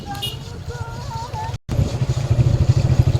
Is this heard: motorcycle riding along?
yes